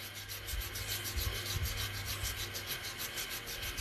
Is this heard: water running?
no